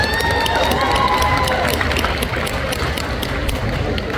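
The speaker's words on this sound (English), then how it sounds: "Round of applause for Mr. Rum Monkey" Crowd at a tattoo expo pinup pageant applauding and cheering, loud and continuous, with a few whistles and shouts rising over dense clapping and general crowd noise.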